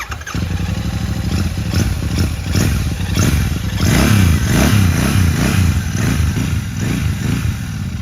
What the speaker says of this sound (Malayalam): ഇതിനേക്കാൾ ബേസ് കൂടിയ ചെറിയൊരു തമ്പ് സൗണ്ടാണ് ബൈക്കിനുള്ളത്.